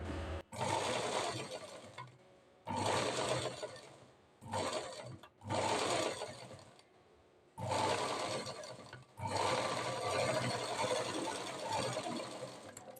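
A sewing machine stitches a princess cut blouse in six bursts of rapid mechanical whirring, each a second or two long and separated by short quiet pauses, close and clear with no talking.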